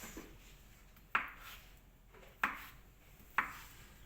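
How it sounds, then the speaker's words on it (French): Knife cutting pre-cooked potatoes into large cubes on a board, three sharp distinct chops spaced about a second apart against a quiet background. "On va couper comme ça, pareil, en gros cubes."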